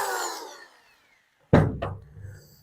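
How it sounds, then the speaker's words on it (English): A drill bores a pocket hole into hardwood through a Kreg jig with a stop collar, one sharp close burst of cutting that dies quickly, followed by a brief second pass, after a fading noise and a short silence. "you want to drill to the point that your stop collar comes down against your Kreg jig"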